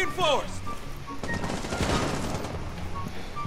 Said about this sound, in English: Someone's shooting that window.